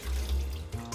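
Water runs in a steady stream into a kitchen sink as defrosted seafood is drained, a close, continuous splashing flow with no voices.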